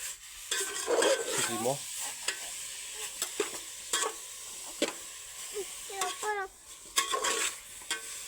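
Grated carrots for carrot halwa roast in a hot pan, sizzling softly while a spoon scrapes and stirs in repeated strokes, with brief voices in the background.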